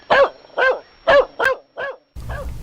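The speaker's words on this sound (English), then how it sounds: "Suddenly, Bud started barking." A dog barks five or six times in a steady, evenly spaced series, loud and close, with a rumble of background noise under the last bark.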